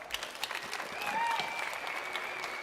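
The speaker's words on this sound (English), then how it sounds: "Please join me in giving the team a round of applause." A crowd claps at moderate volume, the applause building slightly and staying steady, with faint voices and a brief whistle-like tone over it.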